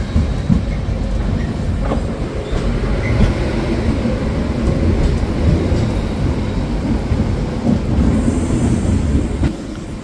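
Purulia-Howrah superfast express train pulling out of Purulia Junction, a loud, steady rumble of wheels and carriages with faint clickety-clack and the occasional squeal running throughout.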